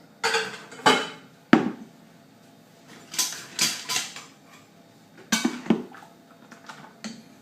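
Hazelnuts and chocolate being stirred into clafoutis batter, with a scattering of sharp clinks and scrapes of utensil against bowl arriving in irregular bursts over a quiet background.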